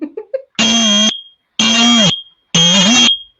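A smoke detector under test sounds three long, loud, shrill electronic beeps with brief gaps between them, preceded by a few quick faint chirps.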